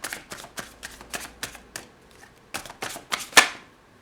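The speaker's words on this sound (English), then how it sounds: "I have shuffled these cards" A deck of tarot cards is shuffled in a run of crisp riffling bursts that stop, restart and end in one sharp snap, close and clear with no talking.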